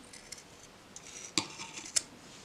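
Scissors snipping T-shirt yarn to a tapered point: a few quiet, sharp clicks and snips, with two clearer cuts near the end, close and faint in a quiet room.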